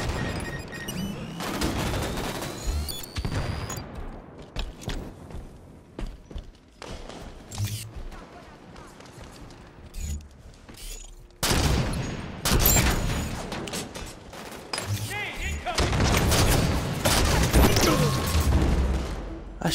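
Sniper rifle fire in the shooter game Halo 5 Guardians: loud sharp reports and booming blasts mixed with other combat gunfire across the match, the firing coming in bursts under excited player talk.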